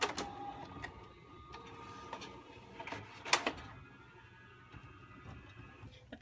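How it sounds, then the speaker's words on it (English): A printer works through a photo transfer sheet, quiet mechanical whirring broken by scattered clicks and a sharp clack near the middle, close by in a still room. "I'm going to go to my printer and I'm going to print."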